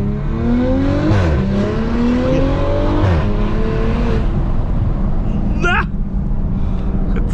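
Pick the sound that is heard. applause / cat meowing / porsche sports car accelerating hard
porsche sports car accelerating hard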